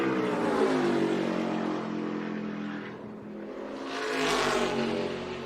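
A NASCAR race car roars through a qualifying lap at the 2022 ToyotaCare 250, its engine note loud and continuous, easing slightly midway before surging again toward the end.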